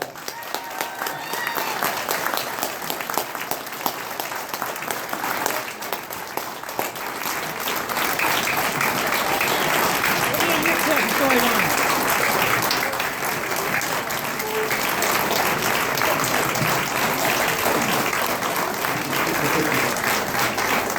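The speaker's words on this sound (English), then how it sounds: "How about a round of applause?" A long, full round of clapping fills the room at the 2017 Illinois Western Horse Show and Racing Association banquet. It starts a little uneven, then builds into sustained, even applause, with faint voices now and then.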